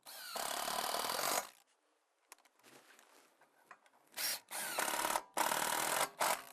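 A power tool drives two 50mm Tex screws into timber sole boards under scaffold base jacks, in several loud close bursts of whirring with pauses between them and no talk.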